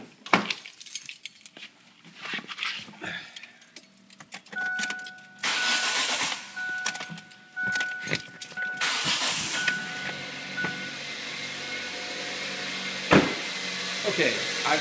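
A 2005 Kia Spectra converted to flex fuel, with keys jangling and handling noises, then the engine cranking and catching into a steady idle.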